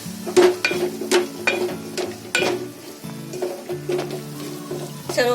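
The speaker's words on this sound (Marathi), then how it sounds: "सर्व मसाले कसे फ्राय चांगले झाले." Spices for a green egg masala fry and sizzle in a pan while a spoon scrapes and stirs in repeated strokes, close and clear with no talking.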